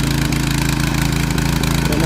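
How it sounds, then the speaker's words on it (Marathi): A tractor engine ploughs a rice field in the Konkan, a loud, close, steady throbbing drone with a regular pulsing rhythm. "हे बघा, ही मळी पूर्ण आता नांगरायची आपल्याला ट्रॅक्टरने."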